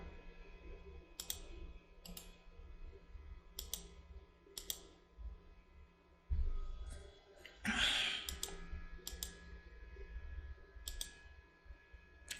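A computer mouse clicks while music production software is in use. Sparse, sharp, evenly spaced clicks sound at low volume over a faint background hum.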